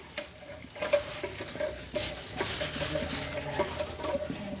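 Sweet boondi and cucumber seeds are stirred through sugar syrup, giving soft, wet, repeated scraping and sloshing strokes at close range, with a faint sizzle underneath.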